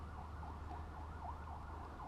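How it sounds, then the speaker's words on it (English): A wailing emergency siren rises and falls steadily in a repeating cycle, heard at a distance over a constant low rumble. "I've got some sirens going off in the background."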